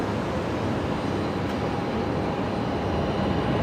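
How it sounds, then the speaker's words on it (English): Jetstar Airbus A321neo jet arriving from Melbourne, a steady broadband roar that stays loud and even throughout, with no voices over it. "Jetstar 566 coming in from Melbourne. 321 Neo, is it?"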